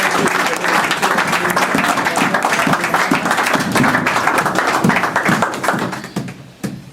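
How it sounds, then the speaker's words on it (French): A church congregation applauds: dense, sustained clapping from many hands fills the room, steady and loud before fading out near the end. "Acclamons notre Seigneur pour la parole."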